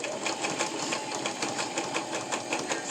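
Home sewing machine running a zigzag stitch on a fabric face mask, a steady rapid mechanical chatter with even rhythmic pulses throughout, close and alone.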